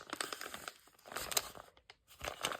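A plastic snack-style bag crinkles and rustles close by in short irregular bursts separated by brief quiet gaps, with no talking.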